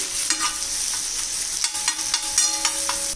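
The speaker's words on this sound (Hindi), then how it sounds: "लहसुन अदरक का पेस्ट तो भून लेते हैं।" Garlic ginger paste sizzles steadily in a hot pan while a spoon scrapes and stirs in short, repeated strokes, close up and without speech.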